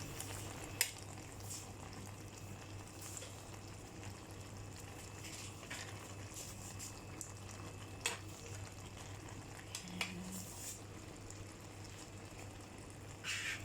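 Tilapia kaldereta with squash, string beans and pechay simmers in a pan, a steady low bubbling hiss with occasional faint clicks, continuous and quiet with no talking.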